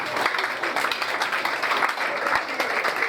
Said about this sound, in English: begin to appreciate the Lord with a clap of praise